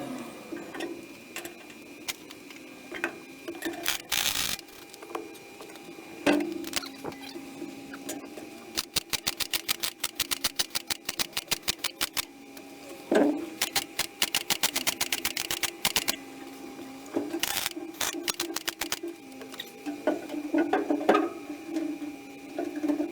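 Welding on the bodywork of a 1988 classic Mini, backed with copper, comes as rapid crackling bursts of clicks and buzzing, some short and some lasting several seconds, separated by brief pauses, close and moderately loud with no talking.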